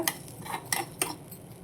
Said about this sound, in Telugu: ఈ పోపుని దాంట్లో వేసేసి ఇలాగా పెరుగు వేసేసుకుని ఉప్పు పెరుగు ఇందులో వేసేసి చక్కగా ఇలా కలిపేసుకున్నాను